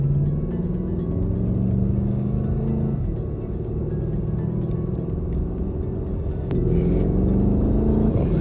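A Porsche Panamera GTS in Sport Plus mode gives a deep, steady engine drone heard from inside the cabin. The pitch climbs through gears under acceleration, with a brief shift dip around the midpoint and another near the end.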